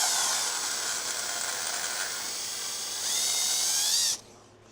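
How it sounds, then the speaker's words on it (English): A power drill whines steadily while boring and tapping holes in a part of a Husqvarna K971 cutter, a high continuous tone that rises in pitch briefly near the end before cutting off sharply. "we're just going to drill and tap just like anybody else would"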